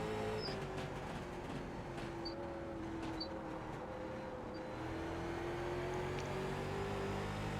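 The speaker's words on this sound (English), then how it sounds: "So I keep working the throttle, kind of poking at it to help rotate the car." A late model race car engine drones steadily at Oxford in the NASCAR iRacing simulator, pitch wavering slightly as the throttle is blipped and eased, with a continuous roar and no talking.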